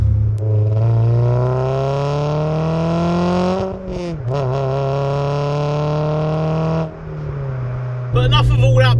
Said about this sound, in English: All of that beauty and sound and naturally aspirated goodness is coming out of a 2-litre 16 valve engine with 197 brake horsepower